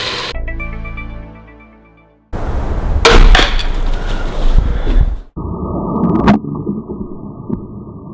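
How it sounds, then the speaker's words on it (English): A bolt fired from a Ravin LR crossbow at 450 feet per second, fitted with a 175-grain Terra Firma Gladius broadhead, strikes a cinder block. A ringing tone fades out, then abrupt loud harsh bursts and several sharp close cracks follow. "was just shot by the Ravin LR at 450 feet per second into a cinder block for the second shot into a cinder block"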